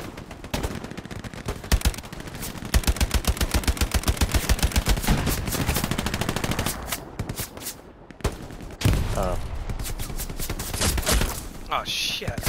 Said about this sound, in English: Fucking machine gunners focused in on me